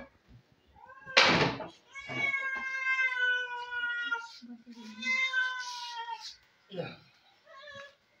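A cat meows repeatedly and clearly close by, several drawn-out calls with short gaps, alone with no talk.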